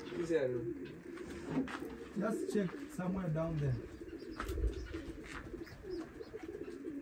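Pigeons or doves coo from inside a gypsum ceiling under a leaking roof, soft repeated coos in a quiet room. People talk over them at a low level.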